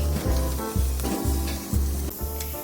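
Jeju black pork sizzles loudly on a grill at a restaurant in Seogwipo, a steady hiss of fat with rhythmic bursts as pieces are moved, close and alone.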